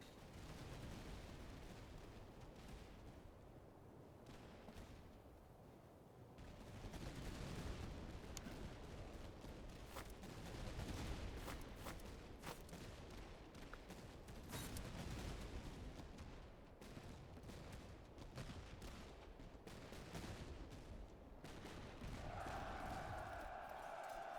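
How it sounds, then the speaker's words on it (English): Musket volleys from Prussian and Holy Roman Empire troops in the Master of Command strategy game, dense crackling gunfire and booming shots rolling continuously with sharp cracks scattered throughout, loud and layered like a distant battle line. "everyone looks like they're shooting at the moment"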